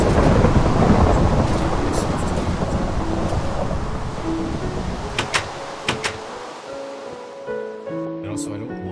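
Thunderstorm in the video game Minecraft Beta 1.7.3, a loud rumble of thunder fading over rain, with sharp clicks and short tones from the game near the end.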